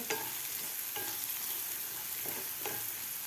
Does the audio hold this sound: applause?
no